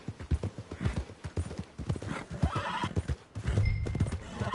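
Horse hooves clip-clop in a quick, steady rhythm in a video game, with a loud whinny near the end; the hoofbeats are close and prominent, with no talking.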